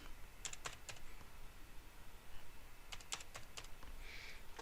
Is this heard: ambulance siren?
no